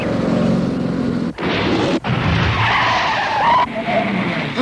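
A car skids with a loud, sustained tire screech that wavers and briefly cuts out twice, heard close and alone in an animated series scene.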